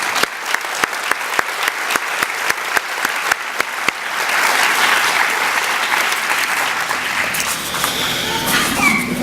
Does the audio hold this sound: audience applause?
yes